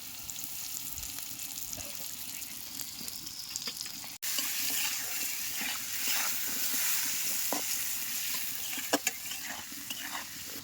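Taro pieces fry in hot oil seasoned with salt and a little turmeric powder, giving a steady close sizzle with stirring scrapes and a brief break partway through.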